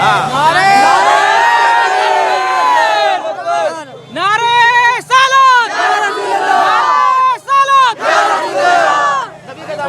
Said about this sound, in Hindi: सबसे पावरफुल जो नारा है वो लगाइए